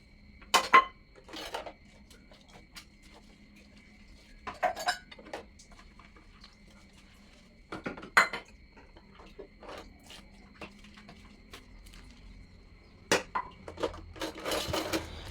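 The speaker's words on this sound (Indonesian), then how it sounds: "Semoga teman-teman tidak bosan liatin saya nyuci piring terus" Dishes being washed by hand in a home kitchen: scattered sharp clinks and clatters of plates and cutlery, some in quick bursts, separated by quiet pauses, fairly close and not very loud, with no talking.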